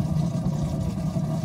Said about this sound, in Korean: 여기 모터가 있는데 걔가 계속 돌아가면서 섞어주면서 하는 거고